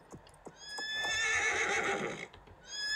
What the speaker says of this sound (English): Oh no, your horse is rearing!